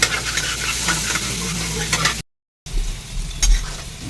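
Pieces seasoned with salt and turmeric fry in hot oil with a strong, close sizzle and brisk stirring. The sound breaks off for a moment of silence, then the sizzle and stirring come back.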